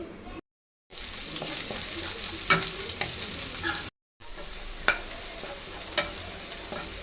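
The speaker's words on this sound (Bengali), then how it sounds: "এখন এই মাছ ভাজা তেলের মধ্যেই দিয়ে দিব পরিমাণ মতো পেঁয়াজ কুচি।" Chopped onions frying in leftover oil from frying boal fish, a steady close sizzle with occasional stirring clinks, briefly cut by two short silent gaps.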